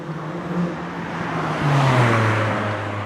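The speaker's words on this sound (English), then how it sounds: "And fast, loud cars." A car passes close by on a quiet Sunday night street in Hateley Heath, West Bromwich, engine rising then falling in pitch as it goes, loud and brief.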